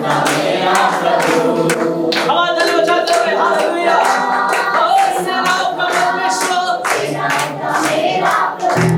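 A church congregation claps hands in a steady beat during a Hallelujah worship song at a wedding, the loud rhythmic claps ringing out alongside singing voices.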